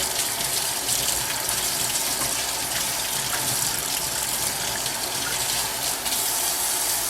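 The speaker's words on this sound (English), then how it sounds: "Rinse the blade off." Tap water runs in a steady broadband gush over an AquaSaw blade as it is rinsed at a sink, a continuous close splashing that holds even for about seven seconds with no voices.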